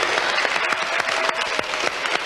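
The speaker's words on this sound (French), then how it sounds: "Oh bah je crois qu'on peut l'applaudir" A studio audience on a 1990 French children's TV show applauds Julie, brisk scattered clapping that rises briefly and fills the short moment without speech.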